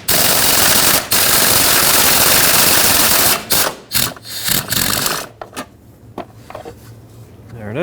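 A ratchet wrench with a swivel socket turns a 13mm fastener on a 2008-2020 Dodge Grand Caravan during power steering return line work; rapid loud ratcheting clicks run steadily, then break into short, sparser bursts.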